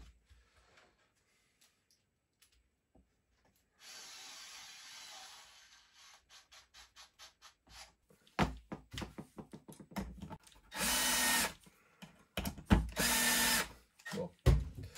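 A Wiha Speed-E electric screwdriver drives a screw into a piece of fir wood: a faint whir at first, then a string of short motor bursts, and finally loud, sustained whining runs with clicks in between, all close and without speech.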